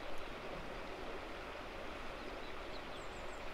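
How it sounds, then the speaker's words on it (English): Steady rushing water from a river flowing past a large stone, a continuous broadband wash with no talk, a few faint high chirps from wildlife near the end. "sat on a large stone next to a river"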